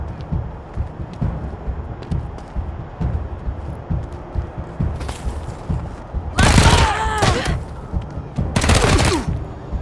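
Video game gunfire from Wasteland 3 on Xbox: rapid bursts of shots in two loud clusters late on, over a steady low rumble of game ambience and brief earlier cracks.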